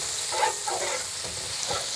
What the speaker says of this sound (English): Now you can hear it sizzling already.